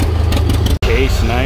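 John Deere B tractor pulling a three-bottom plow at a plow day in Claremont, Minnesota, its steady engine drone running loud and close under a voice, with a brief dropout midway.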